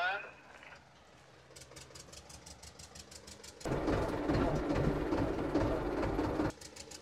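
An Escort 335 tractor engine rumbles as the tractor drives onto a weighbridge, growing suddenly loud and close for a few seconds before dropping back, with people talking over it.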